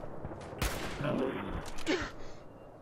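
Gunfire in the game Fallout 4 during a fight aboard a raider ship, a few sharp shots and a short burst mixed with game effects at moderate loudness, with no speech over them.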